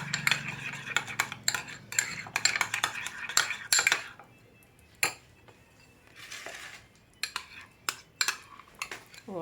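A spoon stirs a yogurt and mayonnaise dressing with a little oil in a bowl for rice salad, a run of quick close clinks and scrapes against the bowl, pausing midway before a few more taps and knocks.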